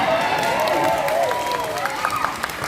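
Audience applause during a Balinese drama gong comedy performance: dense, steady clapping from a crowd, with voices talking and calling over it.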